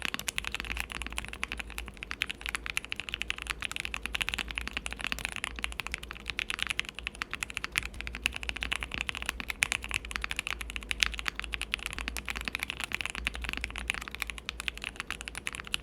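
Steady, muffled typing on a QK65 mechanical keyboard fitted with a silicone dampening slab, soft dull clacks in a continuous rapid stream, sounding damped and thin, with no voices.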